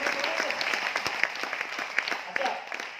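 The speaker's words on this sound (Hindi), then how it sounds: "ताली बजाओ ना जोरदार" Seminar audience applauding in a hall, a dense wash of many hands clapping steadily for about three seconds with a few sharper claps standing out, mixed with some crowd voices.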